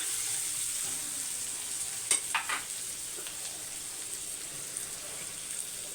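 A quiet, steady sizzle of capsicum frying in a pan, with a few soft scraping stirs near the start.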